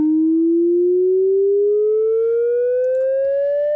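Steady sine test tone run through the Airwindows Smooth plugin, rising slowly in pitch as fainter added harmonics appear above it, loud and continuous with nothing else behind it.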